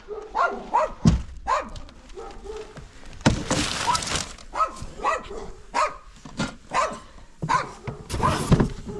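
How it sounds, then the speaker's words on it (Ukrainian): A small dog barks and yips repeatedly in bursts, close and loud, around a chimney sweep's work in a house attic in central Ukraine, with some thumping between barks. "Що ти гавкаєш, малий?"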